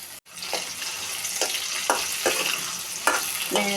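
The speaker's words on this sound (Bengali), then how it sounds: "তো পেঁয়াজ মোটামুটি ভাজা হয়ে আসছে। দিয়ে দিচ্ছি তেজপাতা, দিয়ে দিচ্ছি টমেটো কুচি," Onion, bay leaf and chopped tomato fry in oil, a steady close sizzle broken by regular scraping strokes of a spoon stirring the pan every half second or so.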